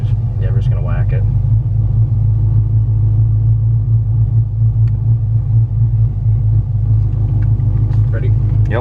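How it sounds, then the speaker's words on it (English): A tuned 6.2 V8 truck with upgraded heads, cam and intake pulls hard at full throttle in four-wheel drive, a loud, steady low engine rumble running throughout with brief voices over it. "So 4-wheel drive, just whack it."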